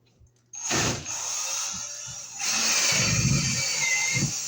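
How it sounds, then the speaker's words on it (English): A power drill bores a hole through a house wall behind a bathroom vanity while wiring a switch and wall light. It starts with a short burst, then grinds steadily and loudly, with a heavier spell near the end. "Okay, so we'll drill a hole behind here."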